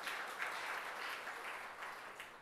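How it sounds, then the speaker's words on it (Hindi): Students in a coaching class applaud a prize winner, a steady dense wash of many hands clapping at moderate volume throughout, with no talk over it. "किरण यादव ताली बजाओ जोरदार।"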